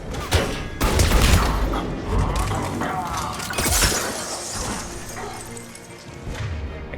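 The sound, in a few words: gunfire shooting at Centurion in Mass Effect 3 video game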